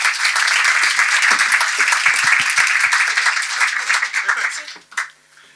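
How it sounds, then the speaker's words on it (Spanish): An audience at an anniversary literary event applauds steadily for several seconds, dense and sustained, thinning out and fading into quiet at the end. "Un aplauso para Diego."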